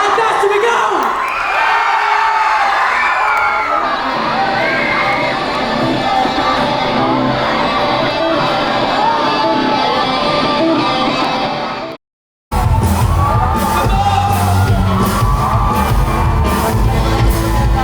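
A school crowd at a full band performance at St. Jude Parish School in Trece, Cavite cheers, whoops and shouts loudly and continuously, children's yells rising over the din, broken by a brief cut to silence before the roar resumes.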